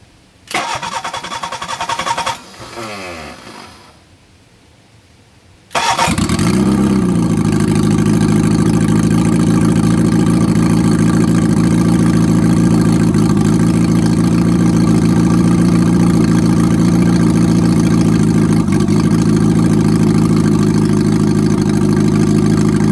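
A small engine sputters briefly, goes quiet, then catches and settles into a loud, steady idle that runs on without pause.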